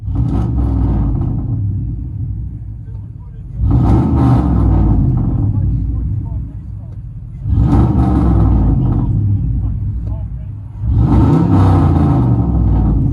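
A 2003 Chevy Silverado's engine rumbles low and heavy through true dual straight-pipe exhaust, heard from inside, swelling into three loud revs that each hold for a few seconds before settling back to a throaty idle.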